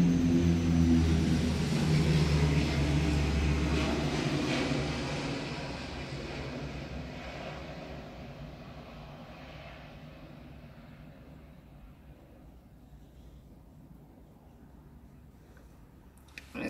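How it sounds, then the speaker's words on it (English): An airplane passes overhead with a loud, broad rumbling roar that slowly fades as it moves away, heard alone with no talking. "Sorry about the airplane."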